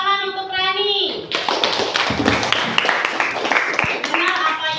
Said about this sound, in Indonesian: Sekarang tepuk tangan untuk Rani